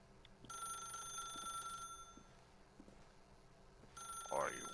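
Telephone ringing in the video game The Stanley Parable, a repeating electronic bell in two bursts at the start and end, moderately loud against a quiet game background.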